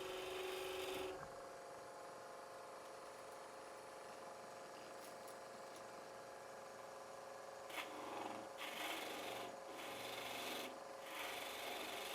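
A spindle gouge cuts wood on a lathe while a baby rattle is turned. It makes a continuous close, dry scraping rasp that breaks into short interrupted strokes near the end, with no talking.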